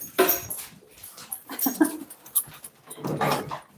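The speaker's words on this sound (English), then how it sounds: "I'm just going to see if I can get these dogs settled here." Dogs whimper, pant and give small yips and growls indoors, in uneven bursts of close, fairly loud sound with brief pauses between.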